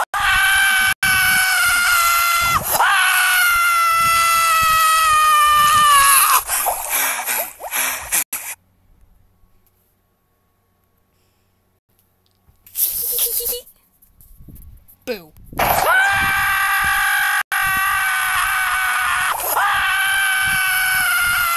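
Shrill cartoon screaming from a Total DramaRama episode: long, loud, wavering shrieks that break off into near silence, then a short burst and another sustained loud scream.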